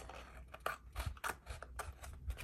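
Scissors cutting along a paper seam in an art journal, a close, quiet run of short snips and crisp paper rustles with no voice.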